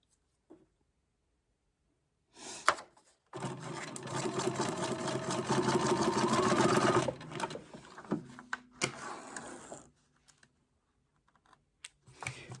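A sewing machine stitches straight lines on paper, running in a fast steady whir-and-clatter for several seconds, stopping, then starting again in shorter bursts, with a few mechanical clicks around the pauses.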